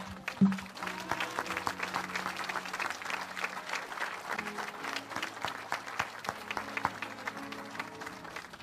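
A church congregation claps in quick, scattered applause that runs on for several seconds, with a sustained organ or keyboard tone humming underneath and a few voices calling out.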